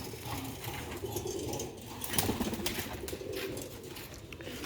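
Pigeons cooing in a loft among Sialkoti breeding pairs and their young, soft low coos repeating over faint rustling and background noise, no voices.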